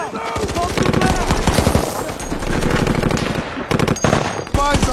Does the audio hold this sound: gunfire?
yes